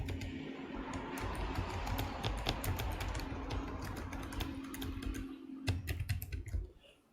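Computer keyboard typing, entering an email and password: quiet, rapid runs of key clicks with brief pauses, close and alone.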